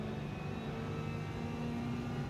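Alfa Romeo 155 race car engine in a racing video game, a steady mid-pitched drone held for a couple of seconds, moderately loud and continuous with no talking over it.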